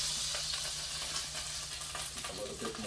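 Sea bass fillets frying in hot oil in a pan give a steady, loud, dense sizzle that fills the whole stretch without letting up.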